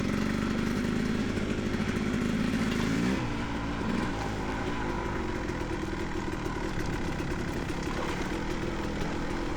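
A 2024 Beta 300RR dirt bike engine runs close by on mixed off-road terrain, a rough, throbbing two-stroke drone that shifts pitch early on and then settles into a steady, busy rumble with no voices.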